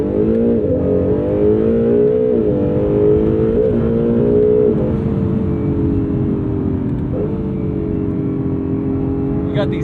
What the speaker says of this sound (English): You got these nice quick shifts from the 9-speed DCT.